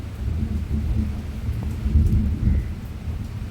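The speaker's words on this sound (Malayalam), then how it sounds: "ഇവിടെ നല്ല മഴ പെയ്യുന്നുണ്ട്, അത് കാരണം ഇടി പൊട്ടുന്ന ശബ്ദമൊക്കെ കേൾക്കാം കേട്ടോ." Heavy rain falls steadily with low rolling thunder rumbling through it, a dense close wash of rain noise with deep swells of thunder and no talk.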